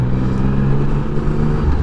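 A car drives along the B36 road in Germany, a loud, steady low engine and road rumble from inside the cabin, with no voices.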